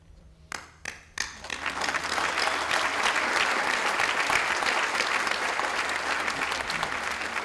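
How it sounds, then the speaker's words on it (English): Applause at a college graduation ceremony honoring the class of 2015: a few sharp claps quickly swell into loud, dense, sustained clapping from a large crowd. "Graduates of the class of 2015, we applaud you for your accomplishments and hard work"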